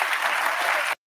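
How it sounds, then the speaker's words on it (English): Studio audience applause on a daytime talk show: loud, dense clapping from a full room, steady for about a second before cutting off abruptly to silence. "Everybody got to clap."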